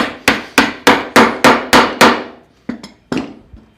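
A round wooden dowel is hammered into a drilled hole in wood: seven sharp, evenly spaced strikes ring out close and loud, followed by a short pause and three lighter, more scattered taps.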